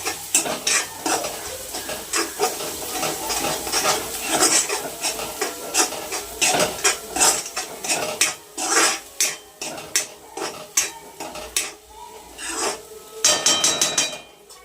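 Homemade red chili powder roasts in oil in a pan, with a continuous close sizzle under brisk, rasping stirs of a spoon scraping the metal, growing choppier toward the end, with no voices.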